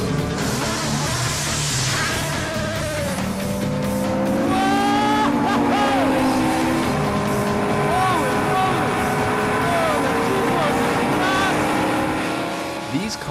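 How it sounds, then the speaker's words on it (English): Race cars capable of 230 mph roar around a track, loud engine notes sweeping up and down in pitch as several cars pass in succession, with a sustained blare near the middle. "These cars can reach speeds of up to 230 miles per hour."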